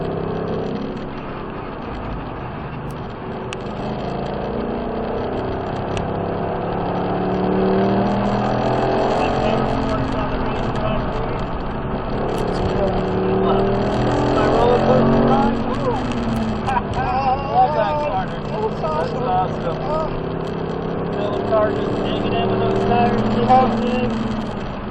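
A Ford Mustang engine pulls hard out of a big left-hand corner on a race track, its steady mechanical roar rising and staying loud beneath a driver talking throughout.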